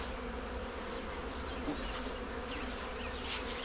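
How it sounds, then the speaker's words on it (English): Honey bees swarm a hive, a dense, continuous buzzing from many insects nearby, steady and moderately loud, with individual bees droning past now and then. "A bunch of bees in here still."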